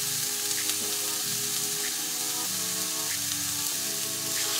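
Vegetables and prawns stir-frying in one pot over high heat for a seafood noodle dish, giving a steady, close, loud sizzle with light crackle throughout and no talking.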